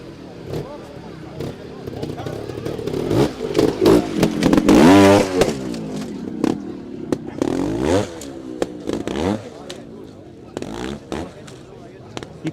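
A trials motorcycle revs its engine at the Scott Trial, the bike sounding rich with blown-out exhaust packing; the rough, rising revs swell to a loud peak midway and then fall back, mixed with crowd babble and clatter.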